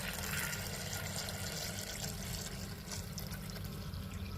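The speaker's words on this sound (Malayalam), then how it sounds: "ഇപ്പോൾ ചൂടുവെള്ളം ഫുള്ളായിട്ട് കളഞ്ഞിട്ടുണ്ട്" Hot water drains from a pan of boiled eggs in a kitchen, a faint continuous pouring gush that runs steadily throughout.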